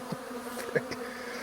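Honey bees released from a hive for cleansing flights buzz faintly nearby, with a steady drone and a few louder passes as individual bees fly close to the microphone.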